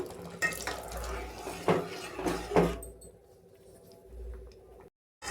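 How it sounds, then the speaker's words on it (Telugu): Hot water pours into a pot of semolina with a splashing gush for a few seconds, then stops, leaving near quiet with a faint drip. "వేడి నీళ్ళు పోసుకుందాము."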